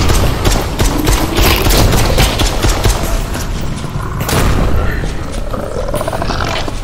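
Rapid bursts of gunfire in the multiplayer zombie shooting VR game Propagation VR crackle and boom almost continuously, dense and loud, with a brief lull before the shooting resumes.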